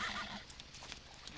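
A horse neighs loudly at the start, a short whinny that fades into quieter rustling and faint hoof or movement sounds.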